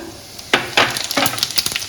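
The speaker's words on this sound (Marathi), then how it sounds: "मोहरी तडतडली की आपण जिरं घालायचं" Cumin seeds tipped into mustard seeds crackling in hot oil for a Maharashtrian poha chivda burst into a sudden close sizzle with sharp popping crackles that keep sputtering.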